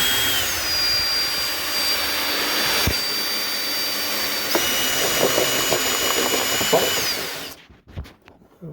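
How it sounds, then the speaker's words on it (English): A cheap hole saw bores into a plastic milk container, giving a steady, loud whining drill roar that runs for about seven seconds before cutting off abruptly into quiet handling noises. "Got a cheap hole saw from Harbor Freight. And I'm just going to drill it and try to make my own."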